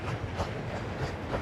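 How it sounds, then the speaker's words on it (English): Subway train rumbling past with a steady broadband roar and faint rhythmic rail clatter, loud and continuous throughout, no talk. "You hear the subway train?"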